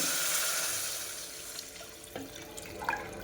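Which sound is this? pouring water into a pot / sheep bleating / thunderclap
pouring water into a pot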